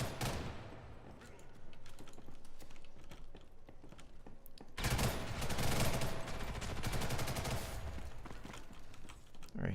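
Rapid automatic gunfire from weapons in the shooter First Assault, sustained bursts of rattling shots that stop briefly and then return louder and denser, with someone talking over the action.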